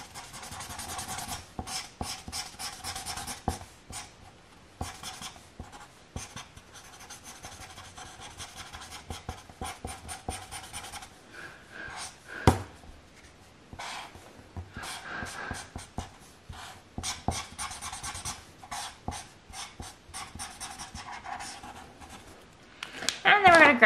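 Close, scratchy strokes of a pencil rubbing back and forth on paper in irregular bursts, with short pauses between them.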